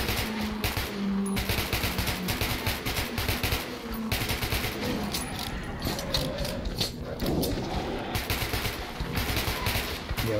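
Rapid gunfire from weapons shot at enemies in Metro 2033 Redux, dense bursts of repeated shots running almost continuously and loudly for the whole stretch, with game mechanism clicks mixed in.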